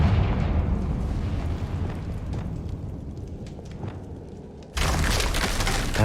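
A Confringo fire spell bursts in the Hogwarts Legacy video game, first as a loud, dense roar that slowly fades and then as a sudden bright crackling blast near the end.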